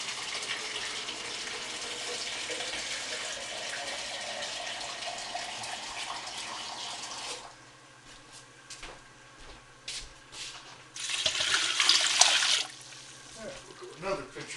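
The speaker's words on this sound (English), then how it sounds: "probably going to add about 2 gallons of water" Roughly two gallons of water pour steadily from a pitcher into a pot for Colorado-style green chili, a broad gushing wash for several seconds, then a pause and a second burst of pouring near the end.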